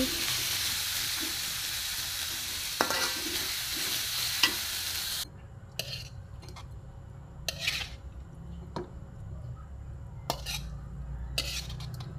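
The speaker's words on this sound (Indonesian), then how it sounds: "Ongseng sebentar, habis itu tes rasanya" Bitter melon and tempeh are stir-fried in a pan with a steady sizzle and scattered clinks of a utensil scraping and tapping the pan. The hiss drops partway through, leaving quieter sizzling and occasional knocks, all without talk.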